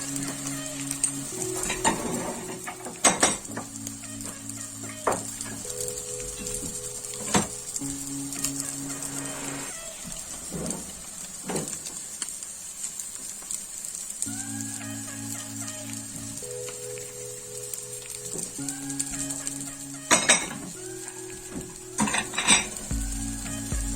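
Omelette cooking in a skillet with a soft, continuous sizzle, broken by repeated clinks and scrapes of a utensil against the pan and a few sharper knocks, close and without talking.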